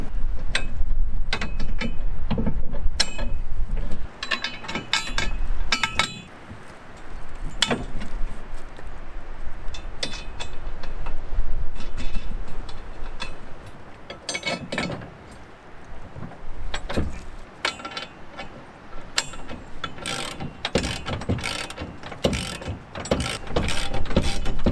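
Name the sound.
bolting towbar mounting plates on with a ratchet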